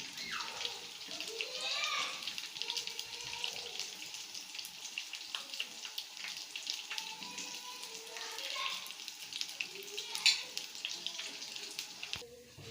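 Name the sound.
burger tikki patty frying in oil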